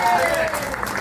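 Audience applause fills the whole second with steady, dense clapping from a crowd at a retirement tribute event, with voices mixed in.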